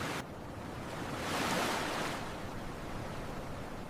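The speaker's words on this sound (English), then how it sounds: "The ocean is beautiful." Ocean waves heard as a continuous broadband wash of surf, with one gentle swell rising and fading in the middle, fairly faint and with no voices.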